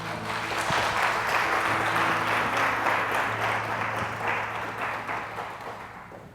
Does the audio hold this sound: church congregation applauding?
yes